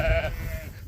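A single sheep bleats loudly and close by on a farm, a short wavering call that trails off into low outdoor rumble.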